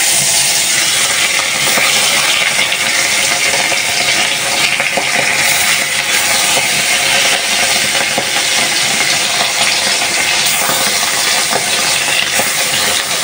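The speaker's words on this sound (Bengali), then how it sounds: "পুঁটি মাছের ভাজিগুলো করে নিই।" Puti fish frying in a pan of oil, a loud, steady hissing sizzle with small pops and crackles, constant and close for the whole stretch, no talking.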